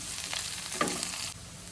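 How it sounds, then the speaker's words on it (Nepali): Ginger, garlic and onion frying in a pan for a pork dish, a steady close sizzle with a brief louder burst of stirring midway before the frying noise drops lower. "अब एकछिन यो अदुवा लसुन र प्याजलाई रातो हुन गयो, त्यतिकै एकछिन भुट्ने"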